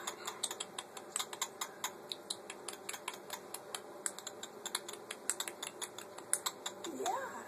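Pepper the dog makes quick, dry clicking kiss sounds in irregular bursts of close, sharp taps, with soft talk in the background.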